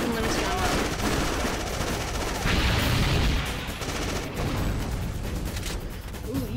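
Dense, sustained gunfire in the video game Afterfall Insanity, rapid bursts and booming shots blending into a loud continuous barrage with a voice speaking over parts of it.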